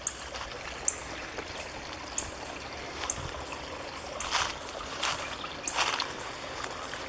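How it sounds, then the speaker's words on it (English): A small creek trickles and burbles among old railway tracks, a faint steady wash of water with scattered soft splashes and ticks, no voices. "there's like a little creek slash swamp in between the tracks"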